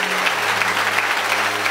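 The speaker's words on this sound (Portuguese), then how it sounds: "Dê uma forte salva de palmas para Jesus." Church congregation applauding at a Universal Church service in Ipatinga, steady dense clapping throughout with a low sustained hum beneath, no voices standing out.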